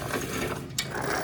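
A push lawn sweeper's brushes spin leaves and debris into its hopper, making a loud, close, continuous whirring rattle of gears with a brief sharper swish partway through.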